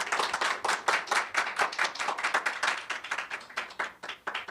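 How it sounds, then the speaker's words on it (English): Close, rhythmic clapping from a small audience at a panel event, producing fast bursts of hand claps that rise and fall steadily for several seconds without talk. "Would you give them an applause, please?"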